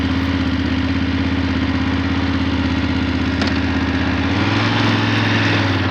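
A BMW F750GS motorcycle engine idles steadily at close range, a loud, continuous mid-low drone with a slight shift in pitch near the end, no talking over it.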